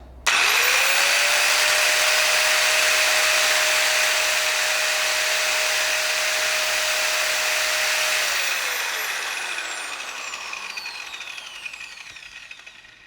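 An INGCO MFS12 multi-function saw runs alone at full speed with a steady, loud high-pitched whine, then the motor winds down over the last few seconds as the pitch drops and the sound fades.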